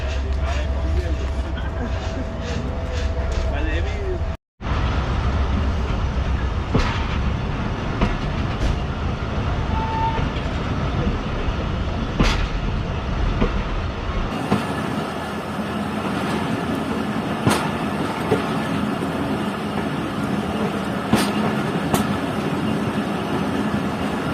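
Pak Business Express train, 34 Down, pulling out of Bahawalpur railway station bound for Karachi, with a steady rumble and rattle of rail wagons and brief clacks throughout, a sharp cut partway, and talk heard over it.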